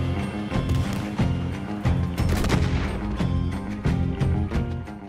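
Gunfire from a Red Dead Online shootout in a match, heard as rapid bursts of shots under a steady musical score with strong tonal layers.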